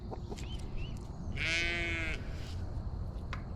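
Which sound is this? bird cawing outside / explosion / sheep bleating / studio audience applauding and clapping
sheep bleating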